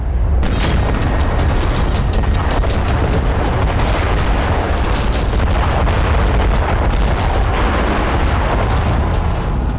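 A sustained, heavy bunker buster bomb blast from an Israeli strike in Dahieh roars and rumbles for several seconds, with sharp crackling bursts on top, loud and close.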